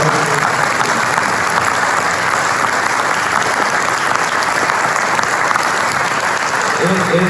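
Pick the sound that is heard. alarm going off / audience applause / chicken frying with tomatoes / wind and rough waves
audience applause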